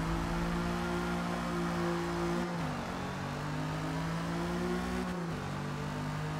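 Race car engine lapping the Hakone GP circuit in Forza Motorsport, a steady high whine that holds, then dips twice as the car shifts or lifts into corners, with no voices.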